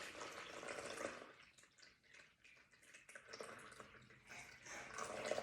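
Water poured into a bowl on a kitchen scale while measuring for homemade coconut dish soap, heard as a faint, steady trickling splash with no talking.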